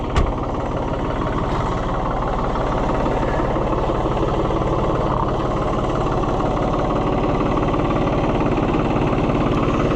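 A New Holland TN75DA tractor engine runs at a steady idle close by, its even low rumble and throb continuing without a break, with no talking.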